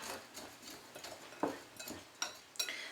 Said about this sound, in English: just mix this equally together until all the cinnamon and the brown sugar raisins is equally combined